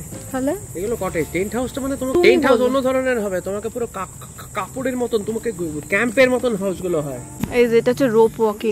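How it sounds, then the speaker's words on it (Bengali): Crickets chirp steadily in a jungle resort, a constant high insect drone running under continuous close conversation throughout. "জঙ্গলের ঝিঝি পোকার ডাক ফ্রি"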